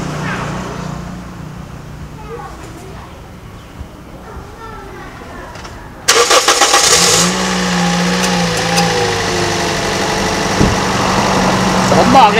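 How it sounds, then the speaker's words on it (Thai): A Toyota Vios sedan, a used car, has its engine started: a sudden loud start partway through, then a steady idle drone that continues to the end, with someone talking over the quieter part before it. "เดี๋ยวผมสตาร์ทเครื่องดูนะฮะ"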